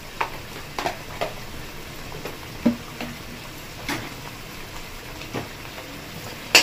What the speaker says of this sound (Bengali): দিয়ে ভালো করে কষিয়ে নিচ্ছে